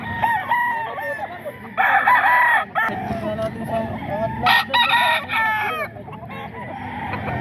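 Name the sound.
rooster crowing at Bocaue market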